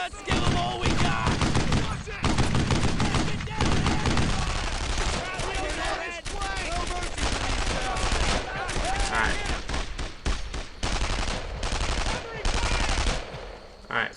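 Sustained automatic gunfire and rifle shots in the World War II shooter Brothers in Arms: Earned in Blood, loud and dense bursts rolling almost continuously, with voices shouting faintly beneath the battle noise.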